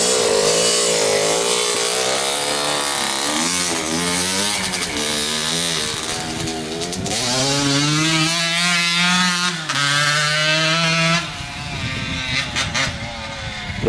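A 1987 Kawasaki KX80 two-stroke motocross bike screams near at top-end revs, a loud buzzing engine whose pitch climbs and holds high, dipping briefly between pulls.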